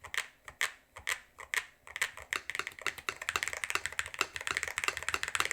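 Typing on a DrunkDeer A75 Ultra mechanical keyboard, close up: quick clacking keystrokes, first spaced and deliberate, then a faster, denser run of taps with no talking.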